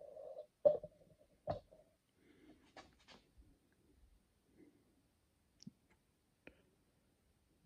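A Wheeler FAT wrench tightens the mount screws on a Burris Signature HD 5-25x50mm scope, giving sparse, quiet clicks and small ratcheting ticks spread over several seconds with long silent gaps.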